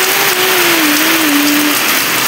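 Heavy rain pours down during an outdoor ride as a steady, loud hiss fills the whole clip, with a faint tone gliding slowly underneath.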